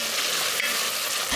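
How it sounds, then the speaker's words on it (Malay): Onion, garlic and diced tomato with tomato puree sauté in a pot, giving a steady, close frying sizzle with a soft stir near the end and no voices. "Tumiskan bahan-bahan ni"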